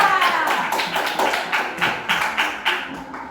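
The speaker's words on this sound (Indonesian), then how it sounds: "tepuk tangan sekali untuk kelompok 3" Audience clapping for a group presentation in a classroom or meeting, a short run of about ten sharp, evenly spaced claps in unison, fairly close and crisp.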